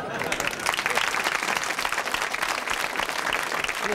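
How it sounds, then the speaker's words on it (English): A studio audience at a comedy show applauds with dense, steady clapping that fills the whole stretch without a break. "A little applause."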